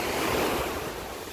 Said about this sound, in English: This is Pensacola Beach, Florida.